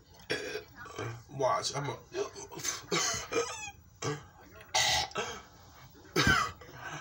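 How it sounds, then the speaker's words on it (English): A person coughs and chokes in repeated harsh bursts with throat clearing, close and loud, while a few words are spoken between the coughs. "When I start choking and coughing, that's how you know it's right there."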